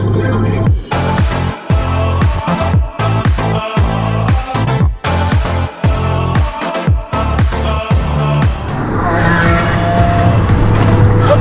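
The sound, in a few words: loud Lamborghini Huracan engine revving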